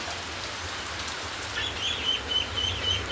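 Steady rain hisses throughout, with a few faint bird chirps appearing in the second half.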